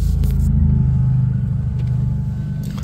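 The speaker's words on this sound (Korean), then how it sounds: "무슨 5시부터 차 소리가 특히나 오토바이가 왜 이렇게 많이 다니는지" Early morning street traffic in San Diego, California, heard from a parked car: a steady low engine rumble of a passing vehicle, loud and close, with faint hiss above and no talk.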